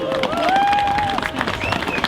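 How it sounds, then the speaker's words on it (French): A crowd at a march for equality in Montreal, Quebec, claps in a dense, steady patter, with a voice cheering or calling out above the applause. "Une bonne main d'applaudissement encore, s'il vous plaît."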